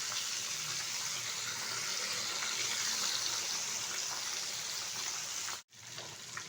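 Rui fish frying in hot oil in a pan gives a steady, loud, hissing sizzle, broken by a brief gap near the end before resuming.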